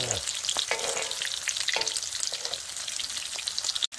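Oyster pancakes sizzle steadily in a hot pan at a campsite, a dense crackling hiss with occasional sharper pops, close and continuous, no talking.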